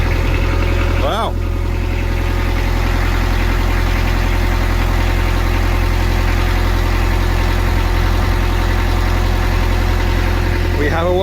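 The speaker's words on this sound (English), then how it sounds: "We have a working engine." A boat engine runs loud and steady after starting up on its first test, a constant close idling rumble with a heavy low vibration throughout.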